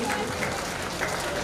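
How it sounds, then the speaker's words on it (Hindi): Applause for children at a 15 August school celebration, a dense steady patter of many hands clapping throughout, with crowd noise mixed in. "जोरदार तालियां बच्चों के लिए।"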